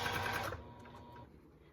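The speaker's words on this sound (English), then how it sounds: "I'm pretty much just letting my sewing machine pull these through." Sewing machine stitching fold-over elastic onto mesh, a short burst of rapid mechanical whirring up close that cuts off after about half a second, then a quiet tail.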